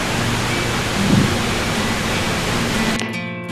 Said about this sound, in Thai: น้ำตกเคงอนสูงเกือบร้อยเมตร เป็นน้ำตกที่มีชื่อเสียงที่สุดของนิโก้